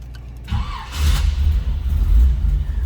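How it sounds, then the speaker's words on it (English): A 1952 Pontiac Chieftain street rod cranks and catches, its starter whirring before the engine fires and settles into a deep, steady idle rumble close by. "Let's go ahead and fire this up so you can hear it run."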